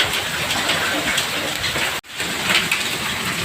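Hail falls during a hailstorm with strong wind in Sukaraja, Tasikmalaya, making a loud, dense, continuous patter and hiss of ice pellets hitting surfaces, with one brief cut midway.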